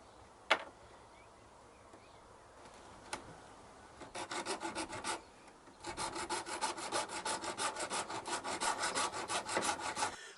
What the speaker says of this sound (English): I'm just using my bench grinder to try and get it into shape.